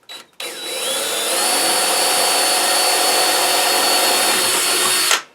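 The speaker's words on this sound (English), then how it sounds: "let's just drill the hole, and this is just a little bit bigger bit than the carriage bolts I have" A power drill bores a hole through knotty pine board for carriage bolts, starting with a brief spin, then a steady loud whine that holds for several seconds before cutting off abruptly, close and alone.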